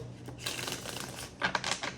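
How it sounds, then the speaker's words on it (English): Quick papery riffling bursts of cards being shuffled, close and fairly soft, in two short flurries with a brief pause between. "So let me just shuffle these up as well."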